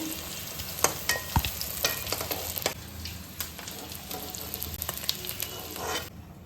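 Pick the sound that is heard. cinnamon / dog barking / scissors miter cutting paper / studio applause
cinnamon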